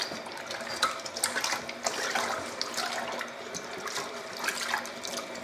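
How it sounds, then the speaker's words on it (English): Hot water is poured onto thick malt extract for homebrew ale, a close splashing, gurgling pour with uneven bursts, fairly quiet and with no talking. "that hot water is going to help out in a big way and get this dissolved pretty quick"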